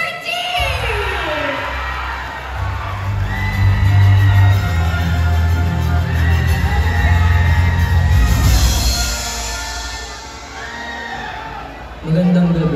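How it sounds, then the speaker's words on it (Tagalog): A crowd at the Ginoong Santolan 2025 pageant cheers and shouts for a male finalist: loud, sustained whoops and screams over booming music, swelling and then fading, with an announcer's amplified voice. "Isang malakas na sigaw para kay Ginoo number"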